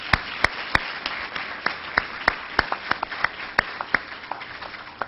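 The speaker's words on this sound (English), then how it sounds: "Let's give her a hearty round of applause." Scattered, sparse clapping from an audience at a Morehouse College Worldhouse event, honoring a visiting professor; a steady patter of individual claps with sharp isolated hits, fairly close, no talking over it.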